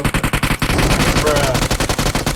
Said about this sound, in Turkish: indim, aldım silahı, adamı vuruyorum.